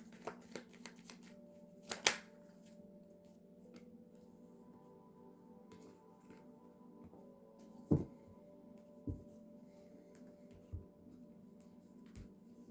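Tarot cards being shuffled and drawn at close range, a soft papery riffle with scattered sharp snaps and taps spaced a few seconds apart over a faint steady hum.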